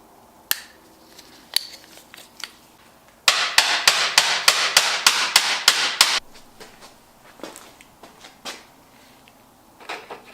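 Metal hammer blows drive the piston pin out of an LS engine's piston and non-forged rod, a run of about ten rapid, sharp close strikes, with scattered single taps and clanks before and after.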